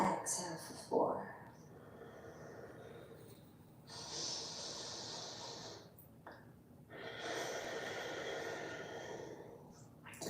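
Slow, steady breaths during a live yoga session: long airy exhales and inhales with soft hissing, close and moderately loud, including one sharper snort-like breath near the start, with no talking.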